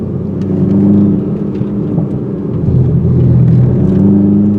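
A steady 2021 Toyota Supra four-cylinder sports car engine drones and hums while driving, rising slightly in pitch midway, loud and close with a constant low rumble.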